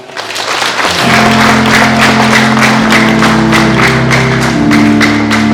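Wedding guests at a church reception break into loud, sustained applause that swells within the first second and continues steadily, with sustained musical tones underneath.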